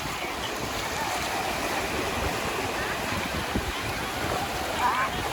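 Ocean waves break continuously along the beach at Galveston Island, a broad steady wash of surf with wind noise and no distinct pauses.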